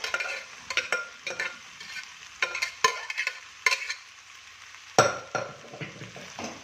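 Cooked rice and paneer being stirred in a hot pan on a gas stove, with a spatula giving repeated scraping strokes over a soft sizzle and an occasional metallic clink, close by and without talk.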